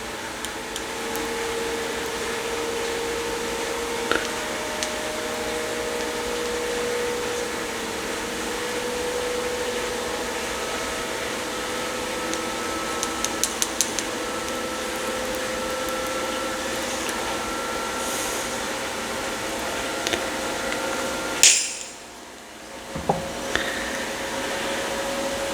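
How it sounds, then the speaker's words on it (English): A washing machine runs with a steady, even mechanical hum and whir throughout, with a few small clicks and a brief dip near the end. "Can you hear the laundry machine just going ham in there?"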